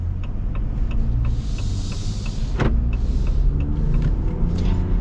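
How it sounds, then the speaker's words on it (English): A low, muffled engine of a 2026 Ram 1500 Laramie Night Edition pickup truck hums steadily from inside the cabin, with a brief whirring sound partway through. "But I can hear the engine a little bit."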